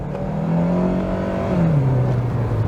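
A Honda Accord Euro CL9 with automatic transmission, pre-facelift, accelerates at full throttle: a loud, steady engine drone from inside the car climbs in pitch, dips at a gearshift, then pulls again.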